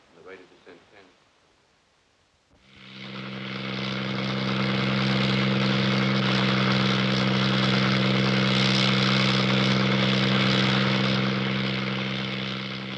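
After a few seconds of talking, a loud helicopter engine spins up into a steady, rumbling whine with strong rotor drone that fills the rest.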